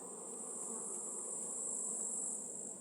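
Honey bees cling to hive super frames as they are removed, buzzing steadily and close by in a continuous droning hum with a bright high whine, no voices.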